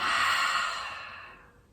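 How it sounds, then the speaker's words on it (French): A deep, long exhale blown out through the mouth during a guided breathing exercise, close and breathy, loud at first and fading smoothly over under two seconds. "Et expirez, soufflez."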